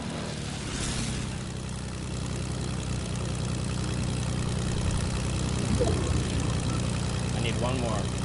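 A propeller plane engine in the video game Fortnite drones steadily with a low hum throughout, while players talk over it in the foreground.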